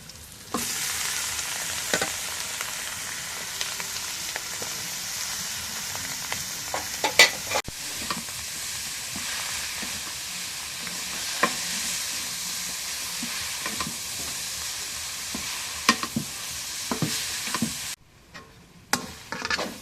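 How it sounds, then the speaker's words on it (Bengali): Leafy greens frying in a wok with chopped chilli, onion and garlic, a steady loud sizzle with repeated stirring scrapes throughout, briefly cutting out near the end. "এখন মরিচ পেঁয়াজ ভাজা হয়ে গেছে, শাকগুলো দিয়ে দিই।"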